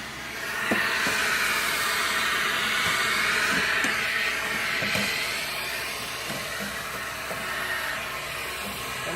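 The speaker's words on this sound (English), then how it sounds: "I'm going to use the house vacuum, and I'm going to suck it out" A household vacuum cleaner sucks debris out of a Hummer H2 blower housing, giving a steady, loud broadband whooshing roar with faint intermittent ticks and rattles of debris passing through.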